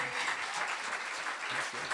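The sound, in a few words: audience applause at end-of-year show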